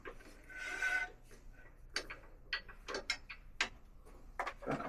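A wood lathe turns a fumed birch piece while a tool rounds out the inside, producing faint, intermittent scraping and rubbing bursts with short gaps between cuts.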